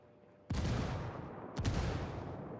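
Gunfire in the tactical shooter Ghost War, two loud, close bursts roughly a second apart, each leaving a long rumbling tail of echo.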